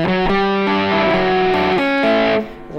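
Distorted electric guitar riff starting on the fourth string, from a lesson on a Rami Fortis song, with loud sustained overdriven notes changing pitch several times before fading at the end.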